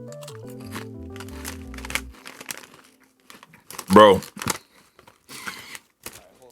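Crinkling foil bag of Rap Snacks Cheddar barbecue chips, a sharp rustling burst around the middle with brief crackles after, mixed with background music and someone talking.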